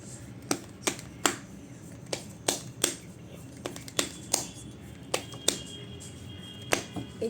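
A tarot card deck being shuffled by hand, heard up close as crisp, irregular card snaps and taps over a soft background hush, with no talking.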